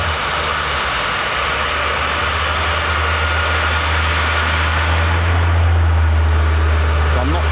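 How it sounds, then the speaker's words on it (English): A KC-135 military tanker aircraft idles among other jets at an RAF airbase, giving a steady loud engine roar with a deep low drone that swells slightly toward the end. "now we've got the KC-135 in the mix as well"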